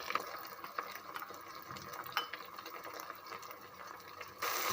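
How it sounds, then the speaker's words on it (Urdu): Water poured into a pan of frying onion, tomato and garlic-ginger paste masala for a green bean curry, a steady close sizzling hiss with liquid splashing throughout and a louder burst near the end. "ساتھ ساتھ پانی ڈالتے جائیں گے"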